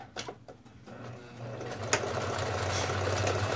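Sewing machine stitching up both sides of a fabric pumpkin: a few stop-start clicks, then a close, continuous rapid mechanical chatter that speeds up and runs steadily to the end.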